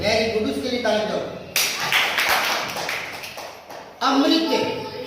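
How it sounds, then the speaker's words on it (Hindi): A classroom bursts into a few seconds of group clapping and tapping between stretches of a teacher talking, the applause dense and close, then cut off as speech resumes. "उसके लिए ताली दो"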